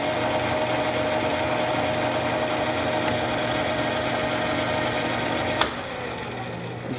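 A South Bend Heavy 10 metal lathe, 10 by 36 inch, running steadily in back feed, giving a continuous mechanical hum and whine with faint gear chatter and a single sharp click near the end.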